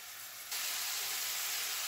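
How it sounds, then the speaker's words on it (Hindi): Chicken roasting in oil in a karahi pan for ginger chicken, giving a steady close hiss and sizzle that starts quieter and then jumps louder and holds constant. "तो यहाँ चिकन कुक हो रहा है"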